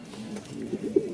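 Pigeons from a breeder's stock coo softly in a low, murmuring rhythm, a few close throaty calls rising near the end, with no voices.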